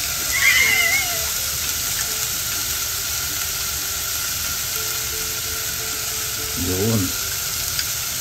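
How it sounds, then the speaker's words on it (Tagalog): Red onion and garlic sizzle in a pan, a steady low frying hiss running throughout with occasional stirring scrapes, while a voice speaks briefly. "Pag nagisa ko po ng sibuyas, saka po maglalagay ng bawang."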